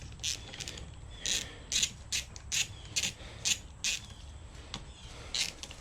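Ratcheting wrench clicks in repeated short bursts while the solenoid is unbolted from an old starter motor, crisp and close with soft gaps between the sets of turns and no talk.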